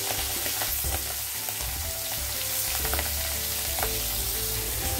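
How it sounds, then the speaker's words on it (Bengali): Prawns fry in hot oil in a wok, giving a steady, loud sizzle with occasional crackles and the scrape of stirring, with no voices present. "এভাবে করে হালকা ভেজে নেবো চিংড়ি মাছটা"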